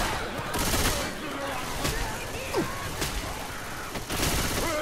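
Video game gunfire crackles in dense, repeated bursts and volleys over several seconds, with occasional louder shots in the mix.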